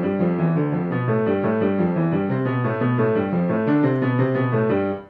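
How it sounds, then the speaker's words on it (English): A piano plays Hanon exercise number 2 as a continuous stream of even, fast notes in a repeating finger pattern. It is close and clear with no voices, and the last note cuts off at the end. "Number 2 sounds like this."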